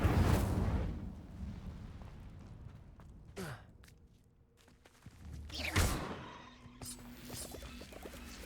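Incendio fire spell cast in the game Hogwarts Legacy, a loud whooshing burst of flame with a rising swish, followed by further fiery swells and crackling effects, with a brief voice calling out spells.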